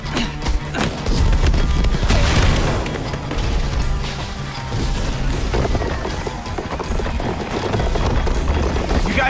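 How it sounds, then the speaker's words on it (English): Fireworks explode in the Minecraft Story Mode video game, a loud, dense barrage of booms and crackling bursts rumbling on without a break throughout the clip. "Fireworks!"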